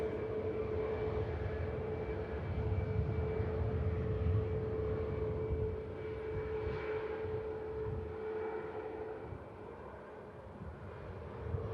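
Ryanair airliner taxiing past at Manchester Airport: a faint, steady engine hum with a thin whine, swelling slightly and then easing off as it rolls by, with no talk over it.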